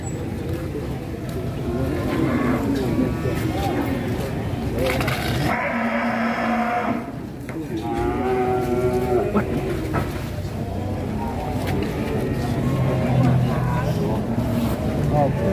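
Cattle at a livestock market near trucks moo loudly and repeatedly over a constant background of crowd chatter and engine rumble, with one long, drawn-out bellow in the middle.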